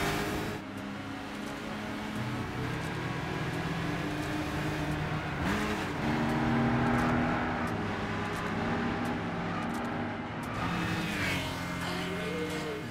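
A Camaro race car engine in a Gran Turismo 6 replay roars steadily, rising and falling in pitch as the car accelerates and shifts, with passing whooshes, fairly loud throughout.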